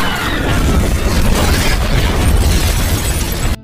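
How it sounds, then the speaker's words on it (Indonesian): A car blown up by gunfire in an action film erupts in a loud, sustained explosion, a dense roaring blast with crackling debris that holds steady for several seconds before cutting off abruptly. "Chris sangat yakin, Arthur pasti sudah tewas, akibat ledakan mobil tersebut."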